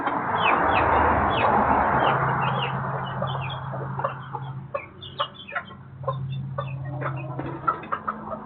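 Backyard chickens, Silkies among them, cluck on winter bedding over sand in a coop. Short soft clucks come one after another over a low steady hum, with a brief rustle near the start.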